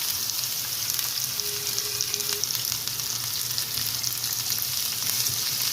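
Sliced bitter gourd sizzles in hot oil with cumin seeds over a high flame, a steady close crackle running throughout with no talking.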